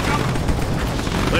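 Dense game gunfire from Command & Conquer 3: Tiberium Wars, a steady loud barrage of overlapping shots and booms running the whole time with no break, with unit voice lines mixed in.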